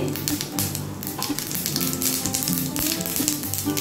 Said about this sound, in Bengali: আমি এতে দিয়ে দিচ্ছি একটু সর্ষে ফোড়ন